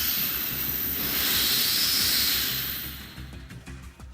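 A sci-fi teleporter effect plays while sugar is mixed into cracker crumbs for key lime pie on a stick: a steady, loud airy hiss with a bright whooshing swell in the middle that fades into faint scattered crackles at the end.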